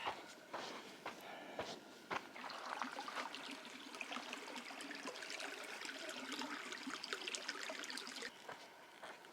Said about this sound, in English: This must be Chimney Creek.